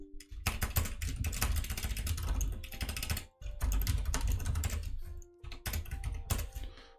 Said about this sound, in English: My typing is not too good today.